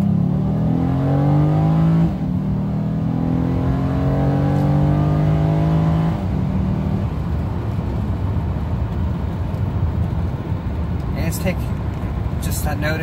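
Honda Accord accelerating hard in cool weather, its engine note rising steadily in pitch as it revs up through gears, loud and close from inside the car, with a shift around two and six seconds and steady road roar afterward.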